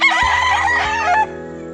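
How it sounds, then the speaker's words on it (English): Early morning in Dipolog, Mindanao, a rooster being groomed gives a loud, close crow lasting just over a second and then breaks off abruptly, with no talk over it. "And they're grooming the roosters."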